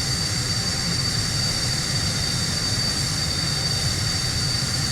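A-6 Intruder jet engine spooling up in a flight simulator game, a steady, loud, continuous whine and roar holding level throughout with no voices.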